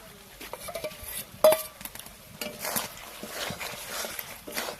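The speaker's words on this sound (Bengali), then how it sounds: "এই ধনেপাতা দিয়ে তো একটু নেড়ে নিলাম ভালো করে।" A spoon scrapes and clinks against a pan as chicken curry with fresh coriander leaves is stirred. The stirring comes in irregular, close scrapes and taps, with one sharper knock.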